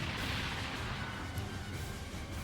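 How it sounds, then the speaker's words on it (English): A dense, rumbling explosion from the video game Super Robot Wars Y, loud and sustained across the whole moment with a heavy low-end roar and crackling texture, no voices. "What was that explosion?"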